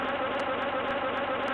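A fly's steady buzzing drones continuously and close for the whole short stretch, loud and unbroken, with no talk over it, in a Finnish underground film.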